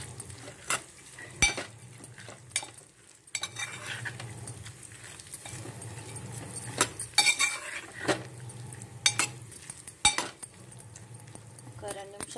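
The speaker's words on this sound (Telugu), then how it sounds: "ఇప్పుడు దీనిలో ఈ మనం తయారు చేసి పెట్టుకున్న బజ్జీలు ఉన్నాయి కదా, ఇవన్నీ దీనిలో వేసి" Fried bajjis are dropped into a ridge gourd curry cooking in a pot, with clinks of a metal spoon against the pan, soft stirring and a light sizzle while someone talks.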